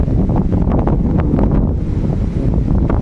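Strong, steady westerly storm wind buffets the microphone outdoors among trees, with a constant low roar and gusty rumble, loud and close, with no voices.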